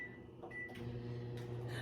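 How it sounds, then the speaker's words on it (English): A microwave oven hums steadily as it melts a stick of butter, a low continuous drone with faint clicks, heard alone at close range. "I have a stick of butter in the microwave, so I am going to now melt that so it will be ready."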